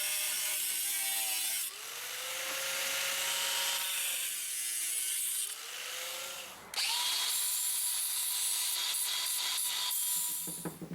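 A power drill drives screws into a wooden jig piece for a grinder slider, its motor whining in rising and falling pitches through several bursts, loud and close with no talk.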